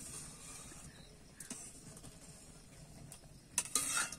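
A spoon stirs chushi pitha, small rice dumplings, as they boil in milk in a pot. Soft, faint scraping and a few light clinks rise near the end.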